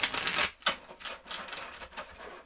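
Board game cards being shuffled, a quick riffle burst followed by softer papery flutters and shuffling, close and moderately quiet with no talking.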